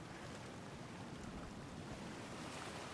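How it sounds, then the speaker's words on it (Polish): Ocean waves wash onto a beach in the survival game Sons of the Forest, a steady broadband surf roar that continues evenly throughout with a soft airy hiss and no talk. "Czy takie fale wcześniej były?"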